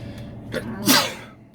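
A single close sneeze, preceded by a short inhaling catch, then a breathy explosive burst that trails off.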